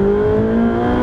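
Ferrari 458 Speciale with its naturally aspirated V8 being driven, the engine holding a loud, steady tonal drone that climbs slightly in pitch with no voices over it.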